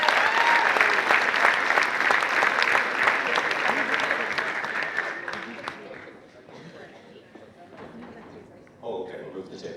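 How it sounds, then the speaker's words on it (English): An audience at a rally-club debate evening gives a loud round of applause for about six seconds, then it fades out into scattered claps, chatter and shuffling, with a sharp bump near the end. "And one last round of applause for everybody, as Marie is hopping up"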